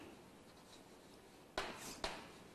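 Marker or chalk strokes on a classroom board, two short sharp scratchy bursts following a quiet stretch, close and fairly faint with no talking.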